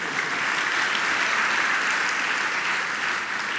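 An audience at a Hindu religious discourse applauds in a hall, a dense, even burst of many hands clapping together that carries steadily from start to finish with no speech.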